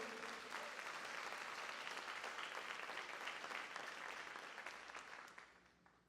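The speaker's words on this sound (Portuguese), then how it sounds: "Se você crê, aplauda Jesus" A church congregation applauds during an evangelist's sermon. The clapping is dense and continuous at a fairly low level, then gradually fades out toward the end.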